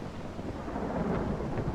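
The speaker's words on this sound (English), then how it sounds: "The storms are hella loud." A thunderstorm in the video game Mount & Blade II: Bannerlord rumbles as a steady, low roll of thunder over a hiss of rain, moderately loud and without voices.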